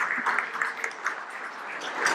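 An audience at a talk on Dominican preaching gives a soft, steady round of applause, moderately distant and fairly quiet, a continuous patter of clapping with no voices over it.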